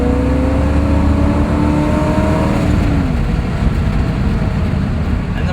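A 1966 Corvette Stingray coupe accelerates hard from about 30 mph, its engine note climbing in pitch as it revs up, then shifting near the midpoint and droning on loud and steady with continuous road and wind roar.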